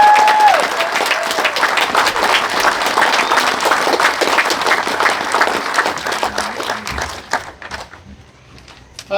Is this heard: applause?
yes